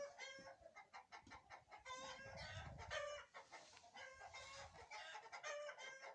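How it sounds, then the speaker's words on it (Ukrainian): Hens cluck and call inside a warm henhouse during frosty weather, with overlapping bursts of clucking and crow-like calls in an irregular rhythm, fairly close but quiet overall. "Ох, як розпівалися кури."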